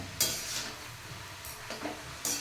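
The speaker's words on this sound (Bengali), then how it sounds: "এগুলো নেড়ে চেড়ে আমি এখন ঢেকে দেব" Greens (saag) with salt are stirred in a pan, giving a few scraping, rustling strokes with metal utensil clinks over a faint low sizzle.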